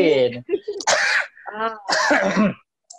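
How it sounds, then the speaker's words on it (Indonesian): A person clears their throat and coughs a few times, close and fairly loud, with short breathy bursts between. "Bentar, batuk dulu."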